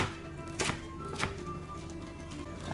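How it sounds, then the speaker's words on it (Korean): A knife chops napa cabbage on a cutting board with two distinct, crisp thunks over a quiet, faint background. "알배추 썰고요"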